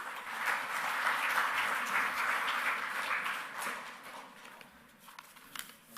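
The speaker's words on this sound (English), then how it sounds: "Let us all welcome him with a big round of applause" A crowd at an ICAI Dubai chapter gathering applauds to welcome the chapter chairman, a dense, steady round of clapping that holds strong for several seconds before thinning out toward the end.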